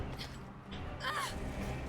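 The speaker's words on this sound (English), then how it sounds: "Crows, crows, crows." Crows cawing in the Resident Evil Revelations 2 video game, a few harsh calls rising over a steady low game ambience.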